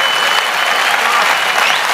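An audience at a gospel sermon claps loudly and continuously, a thick, even roar of many hands filling the whole short stretch.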